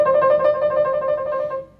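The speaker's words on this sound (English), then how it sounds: "So the first one here is a trill." A quick musical trill, two neighboring notes alternating rapidly and evenly for under two seconds, clear and close before fading out.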